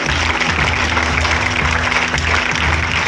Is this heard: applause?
yes